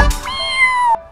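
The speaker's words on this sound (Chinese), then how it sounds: "小宝宝学小猫，喵喵" A single drawn-out cat meow, clear and close, lasting about a second with a bright tonal rise and fall, alone without talk.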